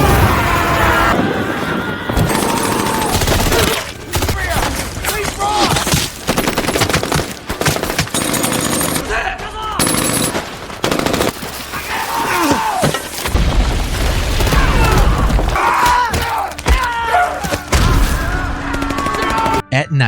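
Heavy gunfire rattles in dense, loud bursts with booming shots throughout, chaotic and continuous like a battle scene.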